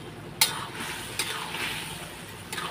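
Washed potatoes being stirred in a frying pan during home Bengali cooking. A soft, steady sizzle runs throughout, broken by a few sharp scraping clicks from the spoon against the pan.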